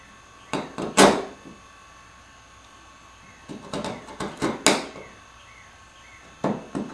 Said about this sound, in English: take a chisel and kind of just even things out